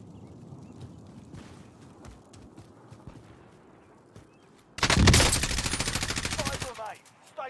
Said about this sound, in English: What the hell were you shooting?